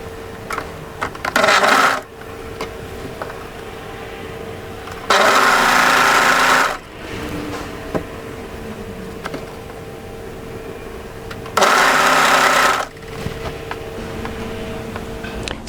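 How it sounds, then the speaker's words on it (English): An overlocker serges up the side seam of a drape dress in three short loud bursts, each a steady whirring run, separated by quieter stretches of handling and a low background hum. "start overlocking up the side seam area"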